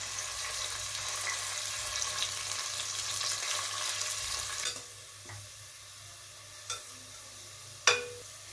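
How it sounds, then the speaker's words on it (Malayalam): Sliced onion frying in hot oil: a dense, loud sizzle fills the first few seconds, then drops away to quiet, broken by a couple of sharp clinks of a utensil against the pan, close by. "ഇതിലോട്ട് ഒരു സവാള അരിഞ്ഞത് ഫ്രൈ ചെയ്തെടുക്കാം. നല്ലോണം ഫ്രൈ ചെയ്തെടുക്കുക."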